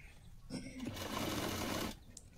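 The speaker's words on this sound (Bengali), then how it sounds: "হাতাটা সেলাই হয়ে গেলে এরপরে দেখুন সাইড সেলাইটা করব" A sewing machine stitches the side seam of a blouse in one steady, loud burst of about a second and a half, with a quieter stretch before and after.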